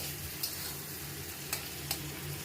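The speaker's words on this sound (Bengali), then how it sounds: "এখন আমি এখানে মশলা কষাচ্ছি চিকেনের জন্য" Spice masala being stir-fried for chicken in a pan, a steady low sizzle with a few sharp scraping stirs of a spatula at intervals, close and alone with no talking.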